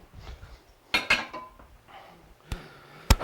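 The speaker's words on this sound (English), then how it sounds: "I'm going to add my carrots and my celery to that" Chopped carrots and celery go into a cooking pot for a chicken and biscuit casserole, with a few sharp clanks and knocks of the pot and utensils between quieter rustling, close and without talk.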